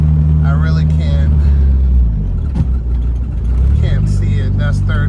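A 1990 Mitsubishi Eclipse GSX turbo engine revs loudly while driving, its pitch climbing and dipping as it pulls through the gears, with a person talking over the engine noise.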